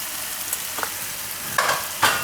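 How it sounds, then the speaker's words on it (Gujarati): Turmeric and spices fry in hot oil with a soft constant sizzle, broken by a few sharp stirring scrapes near the end; close, no talking. "અને તેલમાં પાકવા દઉં થોડીક વાર. હળદર નાખી દઉં, થોડુંક ધાણા જીરું"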